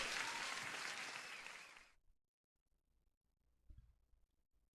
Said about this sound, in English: Let me give you a proper applause.